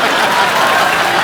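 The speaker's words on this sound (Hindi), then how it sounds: "ताली बजाओ।" An audience at a comedy show applauds in a loud, dense burst of clapping throughout a brief moment, with no voices over it.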